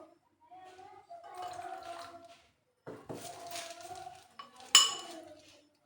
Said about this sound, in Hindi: 2 कप दूध में से मैं थोड़ा सा इसमें ऐड करके इसको मिक्स कर लूँगी।